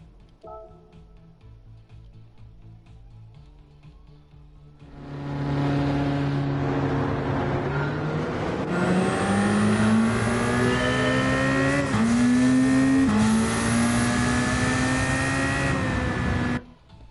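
Ford Sierra Cosworth engine in Gran Turismo 7, a loud steady drone that builds after a quiet start, with rising and falling revs through gear changes before cutting off abruptly.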